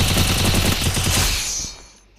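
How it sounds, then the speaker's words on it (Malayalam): Rapid automatic gunfire from the video game Free Fire rattles in a fast burst of close, loud shots, then fades away within about two seconds, with no voices. "എവിടെന്നോ വെടി വരുന്നുണ്ട്."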